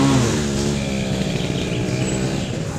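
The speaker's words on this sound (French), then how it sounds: "il y a ma moto qui vient" A motorcycle engine runs close by, revving steadily with a rough, throbbing drone that holds level throughout with no voices.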